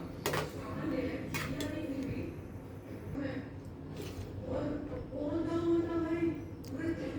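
Makhana and cashews being mixed into shahi paneer in a pan, with repeated clinks and scrapes of a metal spoon against the pan at close range and a soft voice underneath.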